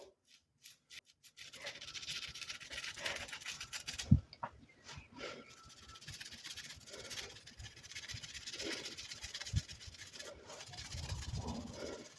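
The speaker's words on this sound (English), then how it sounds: "So I'm just going to keep very gently scrubbing away." A 1950s Schleich bendy figure is gently scrubbed, giving a soft, steady rubbing and rasping texture close up, with a few sharper knocks along the way and no talking.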